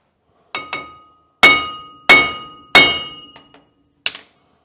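Hammer blows on a steel drive shaft being modified in a workshop: five or six sharp metallic strikes with ringing clanks, spaced irregularly, close and loud, with no one speaking.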